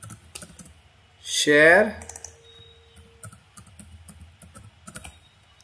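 Scattered soft computer keyboard keystrokes tapping near and quietly, entering text in MATLAB App Designer; a brief spoken voice cuts in early.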